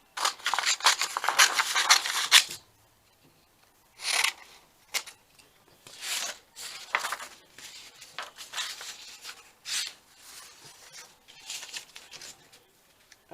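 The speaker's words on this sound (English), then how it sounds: "I'm going to cut 4 pieces the same" Scissors snip through paper pieces for a junk journal cover, several close, crisp cutting bursts in an irregular rhythm with short pauses between, no talking.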